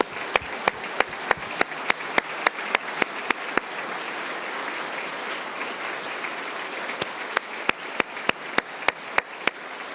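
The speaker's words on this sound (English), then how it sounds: "Let's give them and all the teachers at Austintown Elementary a round of applause for their commitment" An audience applauding for teachers at Ohio's State of the State address, a broad wash of clapping filling the hall, with sharp regular clicks cutting through it.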